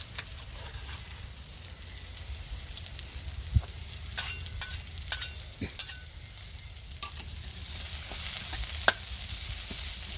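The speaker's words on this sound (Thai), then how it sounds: "แล้วก็ผัดกระเทียม กับพริกให้หอมก่อนนะคะ" Garlic and chili sizzle and crackle as they are stir-fried in hot oil, with steady frying hiss and occasional sharp spatula scrapes against the pan, no voices.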